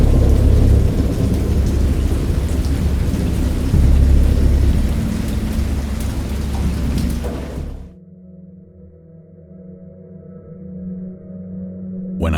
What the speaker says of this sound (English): I know that I heard pearls of thunder and other tones which nature utters only in her wildest moods.